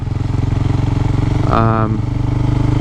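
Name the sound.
motorcycle engine at low revs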